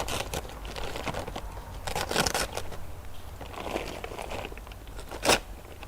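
A knife cuts a hole in the top of a fire pit's packaging, giving faint, close crunching and crinkling that ends in one sharper crackle, with no voices.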